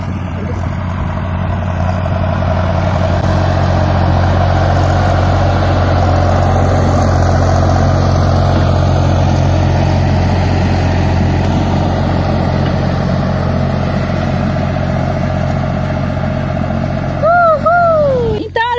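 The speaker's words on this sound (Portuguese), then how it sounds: "E o trator vai ficar lá trabalhando, pessoal." A heavy tractor engine drones steadily and loudly nearby while plowing a dusty field, with a low, constant rumble throughout.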